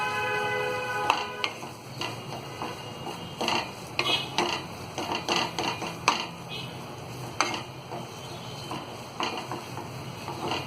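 Cooked potato curry being stirred with fresh green coriander in a pot, with repeated scraping and clinking of a spoon against metal and faint sizzling, near and moderately loud, no talking.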